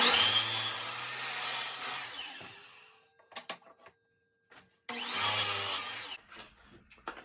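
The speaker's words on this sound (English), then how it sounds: "we're just making our final cuts to size." Glued-up maple and other wood boards being cut to final size on a power saw: two loud, roaring passes of the blade through the wood with high-pitched whine, separated by quiet handling clicks and knocks.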